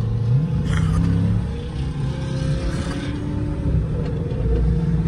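A loud Dodge Charger SRT 392 engine revs and rumbles close by, rising and falling in strong bursts.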